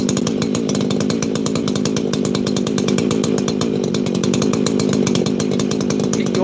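A chainsaw that is not ported idles steadily nearby, giving a loud, even, rapid chugging drone with no throttle changes throughout.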